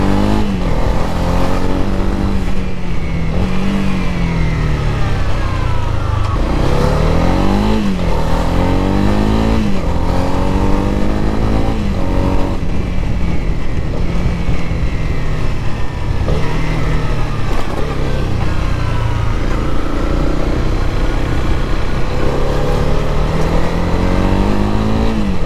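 Honda CB300R motorcycle, a 2022 model, revving repeatedly up and down in loud, close bursts with rising and falling engine pitch, no talking over it.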